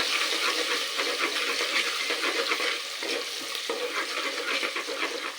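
Garlic goes into a hot pan with ginger for a curry and fries with a loud, dense, unbroken sizzle, close up, with a few slight dips as it is stirred.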